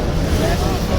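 A boat crosses the sea near Karachi, its engine rumbling low and steady under heavy wind buffeting the microphone and the wash of waves, all close and continuous.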